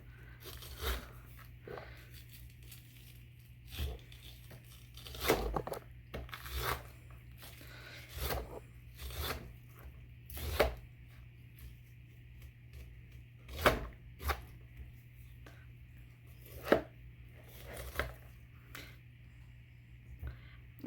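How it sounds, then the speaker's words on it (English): A knife scrapes cooked sweet corn kernels off the cob in a series of separate rasping strokes, one every second or two, over a steady low hum with no talking. "you're going to want to remove it from the cob"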